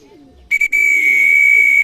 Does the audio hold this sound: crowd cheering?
no